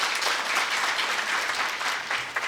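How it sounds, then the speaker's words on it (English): A room of women at a DXN products training camp claps together in a steady, close wash of applause, fairly loud and unbroken throughout the short stretch. "Can we have a round of applause for her?"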